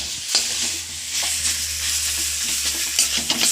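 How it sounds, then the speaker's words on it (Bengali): Oil-free chicken pieces are stirred and mixed in a pan with a steady soft sizzle, while the spoon makes repeated light scraping and clinking strokes throughout. "এবার এটাকে ভালোভাবে আমরা মিক্স করে নিচ্ছি।"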